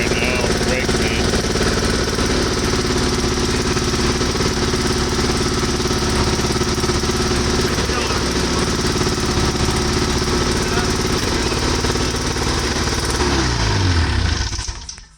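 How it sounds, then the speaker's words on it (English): A Yamaha Exciter 440 boat engine runs loud and steady, its rough rapid chatter filling the clip almost without a break before it cuts out near the end; backfire pops do not stand out clearly. "What's that popping noise? Let's see. Backfiring"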